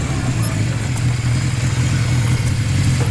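A motorcycle engine idles nearby, a continuous low, even putter and hum at a constant loud level with no change in speed.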